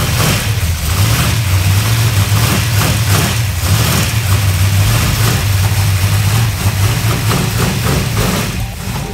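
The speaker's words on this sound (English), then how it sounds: "This is my first car, 1981 XD Falcon. The engine in this car is a 410 cube, E85, AFDs, solid flat tap camshaft." A 1981 Ford XD Falcon with a 410 cubic inch E85 engine and solid flat tappet camshaft revs loudly and close, its lumpy idle rising and falling through repeated throttle blips, heard alone.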